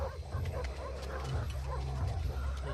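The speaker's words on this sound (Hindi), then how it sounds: "ये सब जंगली कुत्ते हैं।" Several wild dogs bark and yip in a dense, continuous stretch, with whimpering mixed in, heard under a steady low rumble during a tense horror-thriller scene.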